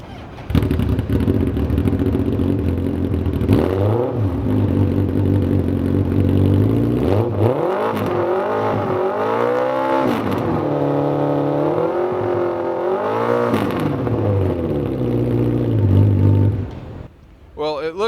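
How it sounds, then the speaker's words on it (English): A loud motorcycle engine with straight pipes revs repeatedly, rising and falling in pitch with a harsh, rumbling growl before cutting off near the end. "because we have some straight pipes at the bottom of the engine, it sounds pretty awesome too"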